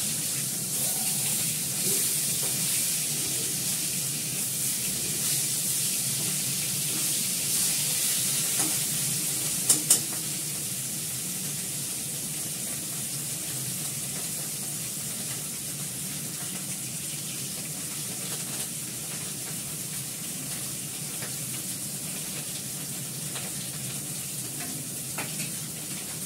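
Fish frying in oil in a home kitchen gives a steady, continuous sizzle close by, with a faint clink partway through and no talking.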